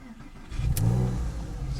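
A Porsche 996 Carrera 2 with a manual gearbox and an optional Dansk sports exhaust fires up, giving a short crank and a quick rev that settles into a steady, close idle.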